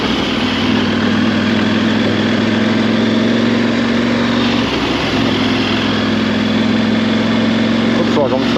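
A KTM 890 Adventure R motorcycle idles after being drowned and recovered, a loud, steady, close engine hum with an even low drone that stays constant throughout, a brief dip midway.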